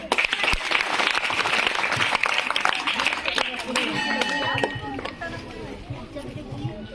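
Applause from an audience at a children's gathering, brisk clapping filling the first few seconds and then thinning out as voices take over at the end.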